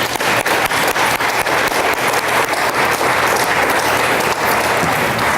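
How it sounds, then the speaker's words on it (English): Sustained applause from a crowd at a school board of education honors and recognitions meeting, dense steady clapping filling the room without pause for several seconds. "Please give them a round of applause."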